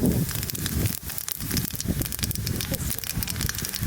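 Cumin seeds, bay leaf and dried red chilli frying in hot oil in a village kitchen, a steady loud crackling sizzle that fills the whole clip with dense, continuous bursts of spitting.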